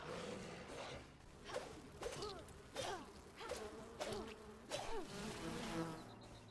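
Bees buzz in the video game Enshrouded, a steady insect drone near an abandoned hunter camp with recurring swelling passes roughly every second, moderately close and without talk.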